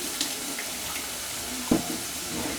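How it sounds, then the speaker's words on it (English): Water pours out of a pot of cooked food being drained before mashing, a steady close splashing rush with a small clunk partway through and no voices. "when mashing, make sure that you drain some water, so that it doesn't become so wet"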